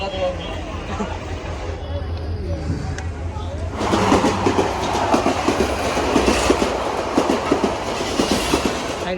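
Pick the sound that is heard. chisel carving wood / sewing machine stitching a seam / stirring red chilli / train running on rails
train running on rails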